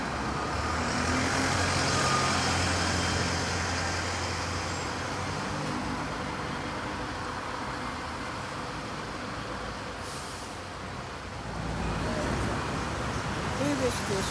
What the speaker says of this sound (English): Here is this first urban livery Volvo V90L Right Eclipse Gemini, leaving Midsummer Norton on its way to Bath